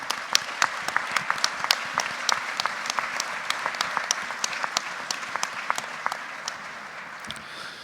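Steady applause from a crowd, dense clapping with sharp individual claps standing out, continuous for several seconds without talk.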